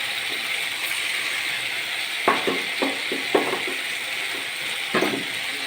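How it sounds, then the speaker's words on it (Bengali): Moong dal and ginger sautéing in a pan: a steady, close frying hiss with a few sharp spatula scrapes and clicks around the middle and again near the end. "এরপর মুগ ডালটিকে আদার সঙ্গে কষিয়ে নেব।"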